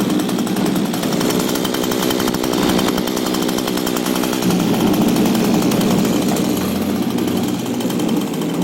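An Echo SRM 2100 string trimmer's small two-stroke engine runs loud and close with a buzzy continuous drone, its pitch wavering and faltering slightly as it hesitates.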